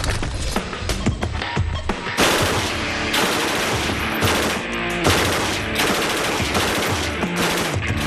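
An Mk 48 heavy machine gun fires loud, close bursts of rapid automatic shots, the volleys separated by short gaps.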